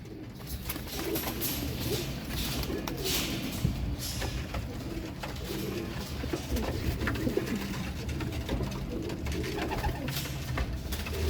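Young pigeon chicks of a ring-eyed fancy breed cheep steadily alongside adult pigeon cooing, close by and continuous with no talk.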